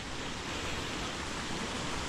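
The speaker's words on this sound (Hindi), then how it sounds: "इस पाइप में ऊपर चश्मे का पानी आ रहा है" Cold spring water pours from a pipe into a natural swimming pool in Afghanistan, a steady, even rush of splashing water heard up close with no voices.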